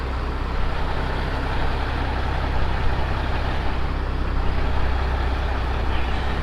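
A Kenworth truck pulls a trailer slowly around a turn, its heavy diesel engine rumbling low and steady at idle-like revs, close and continuous throughout with no talk over it.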